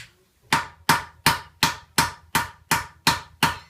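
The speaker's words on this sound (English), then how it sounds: "with a hammer here, is start to block this on the tree trunk" A hammer blocks a silver sheet for a hand-raised goblet against a tree trunk, nine sharp, evenly spaced metallic blows ringing out close and loud, each dying away quickly before the next, with no talk.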